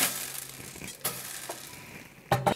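Black pepper and cumin dry roasting in a pan for a kulambu masala, with a faint crackling sizzle and a few sharp scraping clatters as the spices are stirred, and no talk.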